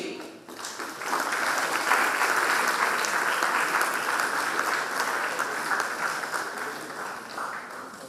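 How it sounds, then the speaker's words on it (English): An audience applauds the finalists at a national moot court competition's closing ceremony, a full sustained round of clapping that swells after a moment and holds before slowly tapering. "Let's give them a round of applause"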